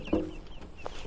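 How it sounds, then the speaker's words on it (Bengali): Chicks or young hens kept beside a rural home give a couple of short clucks, one louder near the start and a fainter one near the end, over quiet rainy ambience with no talking. "আমার মুরগি ছানাগুলো এই যে দেখছো"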